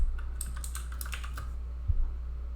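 Calculator keys are pressed in a quick run of light, close taps while an expression is typed in degree mode, then they stop and a faint thump follows.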